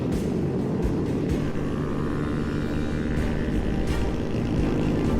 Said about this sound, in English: This chopper's onto us